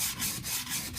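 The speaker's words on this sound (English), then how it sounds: "It doesn't hurt to use your thumb or a finger and just slightly sand your edges." Wood edges of a carry-all caddy being lightly hand-sanded with a thumb or finger, giving close, steady rasping strokes in a regular back-and-forth rhythm, with no talking.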